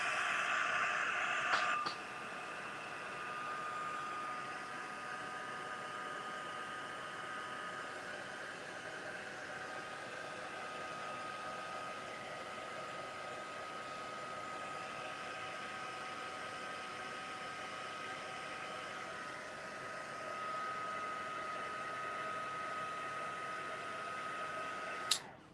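A heat tool blows steadily while drying a vintage chic craft piece indoors, a continuous close whirring hiss that runs almost the whole time before cutting off at the end.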